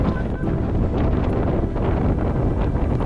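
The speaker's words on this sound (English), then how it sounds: "we sailed the rest of Bora Bora in 30-knot wind" Strong 30-knot wind roars across a sailboat sailing off Bora Bora under a small portion of genoa, a constant loud buffeting rush with gusty surges and no talk.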